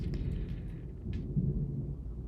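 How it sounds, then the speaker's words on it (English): Low rolling thunder rumbles steadily through a Florida storm, a deep continuous grumble with a slightly louder swell partway through, heard alone without any voices. "Can you guys hear the thunder?"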